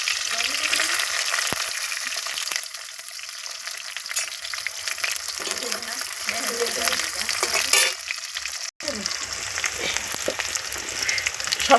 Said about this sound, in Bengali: কড়াইয়ের মধ্যে পেঁয়াজ আর লঙ্কা দিয়ে দিলাম।